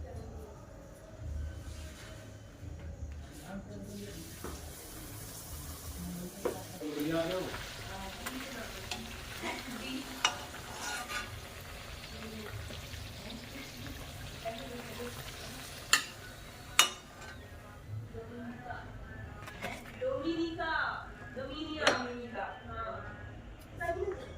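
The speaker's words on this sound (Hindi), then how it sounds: "अब मैं जल्दी से पूरी फ्राई कर लेती हूँ।" Puris deep-frying in hot oil for a family dinner, a steady sizzle running under household noise and voices, with occasional sharp clinks and bursts of bubbling as dough hits the oil.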